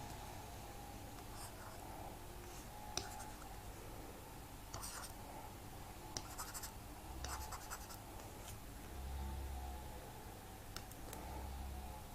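Handwriting during a math lesson on polynomials, with soft intermittent scratchy pen or chalk strokes over a steady low background hiss, no speech heard.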